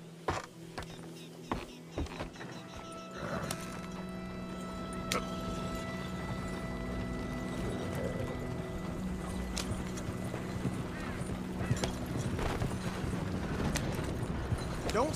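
Horse hooves clip-clop steadily in Red Dead Redemption 2, a continuous trotting rhythm over a low rumble of wagon and ambient game sound, with no one speaking.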